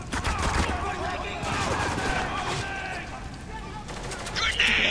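Heavy, rapid gunfire crackles in bursts through a battle in the video game Spec Ops: The Line, loud and continuous with overlapping shots, while voices shout over the fire.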